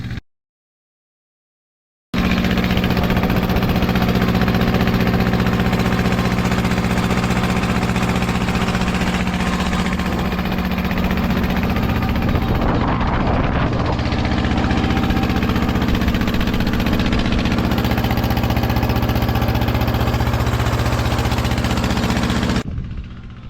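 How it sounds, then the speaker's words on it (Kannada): Diesel motor engine running inside a shed, a loud, steady low rumble and drone close by that holds throughout after a short silent start, with no voices. "ಇನ್ನು ಸ್ವಲ್ಪ ಹೊತ್ತಷ್ಟೇ ನನ್ನ ವಾಯ್ಸಿಗೆ ಕೇಳೋದಿಲ್ಲ, ಯಾಕಂದರೆ ಮೋಟರ್ ಹತ್ತಿರ ಬರ್ತಾ ಇದೆ."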